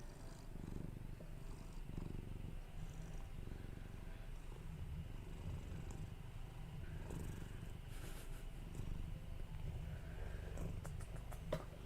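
A large, heavy pet cat purrs steadily and close by in a quiet indoor room, a continuous low rumbling drone that runs the whole time with faint rustling and handling noises around it.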